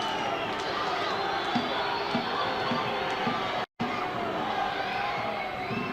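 Crowd at a youth academy football match shouting for a foul, a dense, continuous wash of voices and cheering from a distance, with commentary talk running over it.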